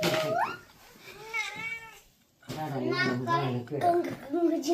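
A cat meows several times up close, rising and whining, mixed with a voice talking over and between the cries.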